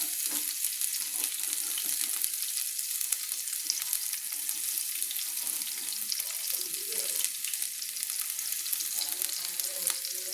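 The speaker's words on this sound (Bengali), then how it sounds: "এবার আমি সজনে ডাঁটাগুলো একটু কিন্তু হালকা হালকা কিন্তু আমি নেড়ে নিচ্ছি, হালকা হালকা করে একটু ভেজে নিচ্ছি।" Strips of drumstick (sajne data) lightly frying in a pan while being stirred, a faint continuous hiss with soft scraping movements.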